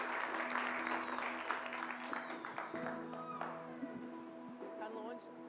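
A church congregation applauds, a broad wash of clapping from many hands mixed with voices and crowd murmur that carries on for several seconds before tapering off.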